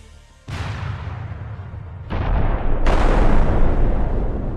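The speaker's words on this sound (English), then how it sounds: "but they too are met by a mine" A military tank convoy vehicle hits a land mine, setting off a sudden loud blast, then a second explosion followed by a third, each leaving a heavy, sustained roar that builds louder toward the end.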